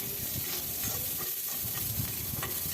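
Constant crackling sizzle of onion and garlic frying in a pan for pumpkin greens, with occasional stirring scrapes and no talking.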